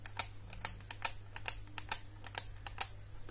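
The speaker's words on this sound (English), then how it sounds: "clicking sound of the pen," A pen clicked repeatedly, about eight crisp, evenly spaced clicks close by over a faint steady hum.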